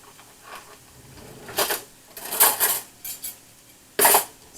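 A fork cutting lard into flour for pastry dough in a bowl, heard as a few separate bursts of scraping and clinking metal against the dish, loud and close, with short quiet gaps between them and no speech.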